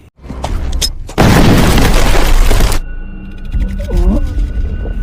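A landmine explodes under a horse in the war film Sisu: a low thump, then a loud roaring blast that lasts over a second and a half before cutting off, followed by rumbling debris and a strained animal-like cry.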